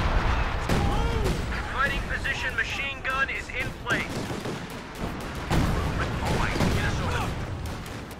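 Company of Heroes 2 video game battle with a deployed machine gun: repeated sharp bursts of gunfire and distant booms scattered across the clip, mixed with in-game voices and chatter.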